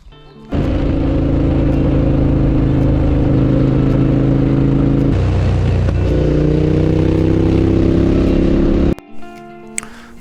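A car engine bursts into a loud, sustained rev, holds a steady growl, then drops and climbs again under acceleration before cutting off near the end, followed by a few faint knocks.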